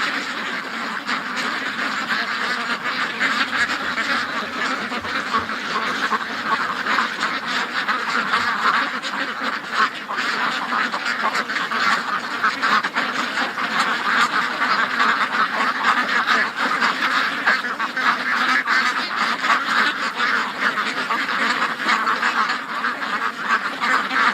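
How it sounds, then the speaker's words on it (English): Ducks and geese kept by a duck rescue, a loud, agitated chorus of quacking and honking from a large flock, near and continuous over the whole stretch with no talking. "the ducks are freaking. Hey, listen to them."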